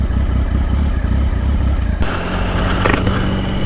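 A Triumph motorcycle engine running nearby with a low, steady throb, its note and clatter shifting abruptly partway through as it picks up.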